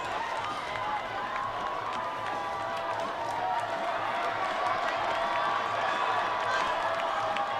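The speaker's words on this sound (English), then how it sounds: "Saints crowd livening it up over there on the far sideline" A high school football crowd at Bishop Dwenger hosting Concordia in 2015 cheers from the far sideline, a steady, moderately distant roar under an announcer's voice.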